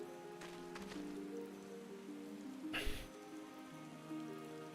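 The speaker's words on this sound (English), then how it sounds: "Hurry up, it's raining." Soft steady rain falling in Final Fantasy XIV, a faint even patter carrying on for a few seconds, with one brief louder sound partway through and no one speaking.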